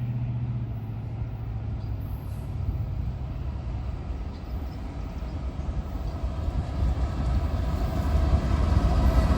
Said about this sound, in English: got Norfolk Southern 170 coming east